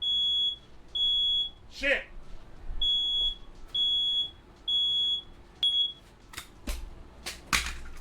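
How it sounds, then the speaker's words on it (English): A household smoke alarm sounding a steady series of loud, evenly spaced high beeps, about one per second, with a person's brief exclamations breaking in between them. "a smoke alarm. Don't worry about it."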